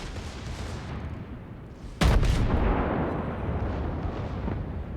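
The Tier 7 German battleship Scharnhorst fires its main guns in World of Warships: one loud, sharp salvo cracks out midway over a steady rumbling sea and engine bed, then a long, heavy roar trails off.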